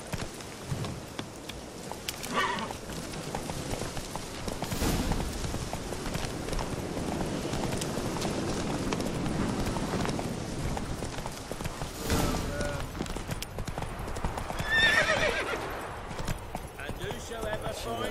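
Rhythmic hoofbeats of a horse galloping through The Witcher 3, steady clip-clop with game ambience, with a voice talking over it at points.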